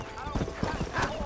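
Horse hooves clip-clop in a quick, rhythmic series of close thuds in the video game Red Dead Redemption, with a voice faintly in the background.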